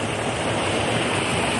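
A waterfall pours steadily outdoors in nature, a continuous broadband rush of falling water that stays even and fairly soft throughout with no voices.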